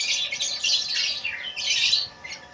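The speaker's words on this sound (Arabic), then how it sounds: "طيور عراقية" Iraqi-bred Ghandour pigeons, rose-white with red eyes, keep up a loud, busy stream of overlapping calls and squawks close by, with no voices.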